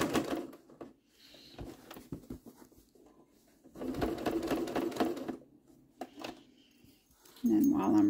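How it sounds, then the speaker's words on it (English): A sewing machine stitching a scrap fabric tote bag close to a frayed edge, bursts of fast whirring stitches starting and stopping, with a voice talking between runs. "I'm sewing close to the frayed edge, but not on it, because I want this to hold."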